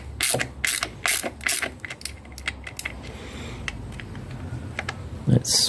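A tool works T27 screws out of a car valve cover: close, irregular clicks and ratcheting ticks over a faint low hum, ending with a sharper knock.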